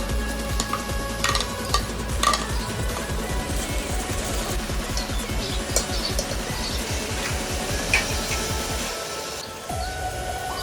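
Chopped tomatoes and green chilies sizzle and fry steadily in a pan, with repeated stirring scrapes over a constant crackle throughout, no voices.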